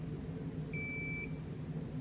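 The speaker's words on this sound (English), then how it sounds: "once it beeps, it's ready to use" A single short electronic beep from a melting point apparatus signalling it is ready after startup, a clean steady tone lasting about half a second, over a quiet background hum.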